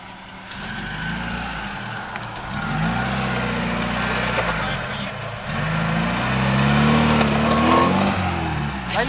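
A car engine revving on rough off-road terrain, a Lanos or Niva, the mid-pitched engine note rising and falling as it strains, with people shouting over it.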